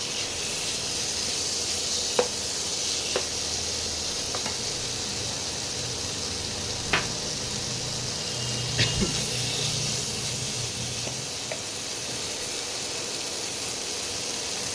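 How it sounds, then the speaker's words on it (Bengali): Chopped tomato hitting hot spiced oil with jackfruit and prawns, a steady close sizzle and hiss throughout, broken by a few faint clicks and stirring knocks. "এর মধ্যে টমেটো কুচি দিয়ে দিলাম।"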